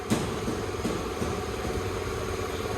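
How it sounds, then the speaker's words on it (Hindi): Royal Enfield Scrambler motorcycle engine running steadily up close, a continuous mid-low rumble with slight irregular knocks, brought in for service with a faint engine noise and gear trouble. "भाई इसके इंजन में भी आवाज़ आ रही है थोड़ी सी ना, गियर में भी दिक्कत आ रही है"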